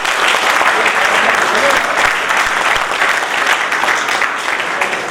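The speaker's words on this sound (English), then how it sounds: "Clap for that." An indoor audience bursts into sustained, dense applause, loud and steady from start to finish with only a slight fade near the end.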